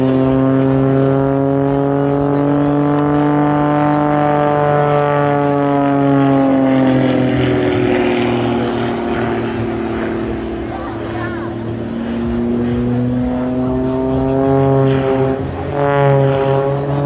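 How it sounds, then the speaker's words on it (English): Jet-powered Pitts S2S aerobatic biplane performing at an airshow, its loud engine droning and shifting in pitch as it climbs and passes overhead, a sustained roar filling the whole stretch. "now we have a much greater thrust to weight ratio, and the aircraft can certainly hover now well"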